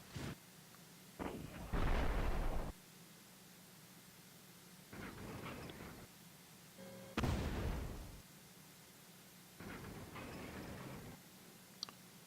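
Bazookas fire and shells explode in the Tank Battle North Africa game at Longstop Hill, making five separate blasts a second or two apart, each a short roaring burst over quiet background hiss, with no talking.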